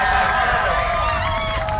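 Players and crowd roar and cheer after a Class 1A girls' state softball semifinal win, a loud, dense wash of shouting and screaming that stays continuous throughout.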